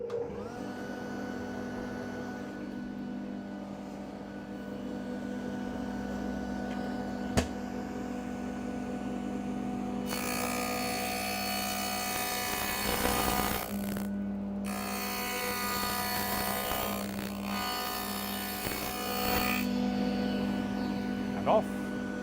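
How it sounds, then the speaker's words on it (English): A table saw fitted with a dado stack runs with a steady humming whine, then bites into wood for a harsher, louder cutting roar in bursts, with someone talking intermittently. "Turn the saw back on."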